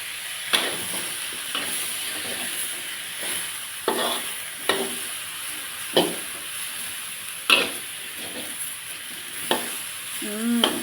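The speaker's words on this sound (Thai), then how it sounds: "ผัดให้โดนร้อนก่อน ให้มัน กลิ่นของต้นหอมอะไอ้ดอกหอมอะหายไปก่อน" Green onion flowers with pork stir-fry in a hot pan, a steady close sizzle punctuated every second or two by sharp scrapes and clanks of the spatula against the pan.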